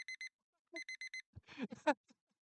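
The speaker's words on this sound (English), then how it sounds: "I groan as I fumble for the alarm clock." Alarm clock ringing in the video game Doki Doki Literature Club: two bursts of rapid, bright electronic beeps, faint and close, followed by a short stretch of talk.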